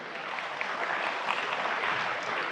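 A youth audience at a talk on Islam and Palestine claps steadily, a dense wash of hands sustained throughout, with no speech over it.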